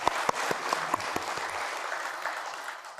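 An audience at a CEO breakfast meeting gives a short round of applause, with sharp claps at first that quickly thin out and fade within a few seconds.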